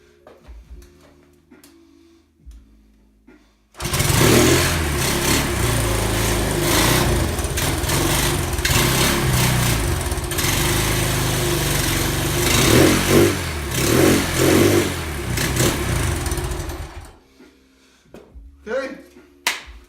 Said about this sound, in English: At this point I'm happy to call this motor running.